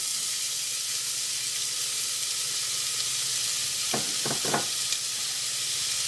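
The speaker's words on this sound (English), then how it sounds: "And into that goes one chopped white onion." Chopped white onion sizzles in about a tablespoon of oil: a steady, bright hiss throughout, broken near the end by a few quick scrapes of a spoon.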